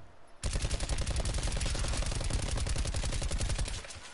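Rapid automatic gunfire in a video game shooter, a loud continuous burst of closely spaced shots lasting several seconds before cutting off.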